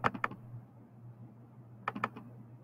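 Keys clatter on a computer keyboard in two short bursts of quick, close clicks separated by a brief pause over a faint low hum.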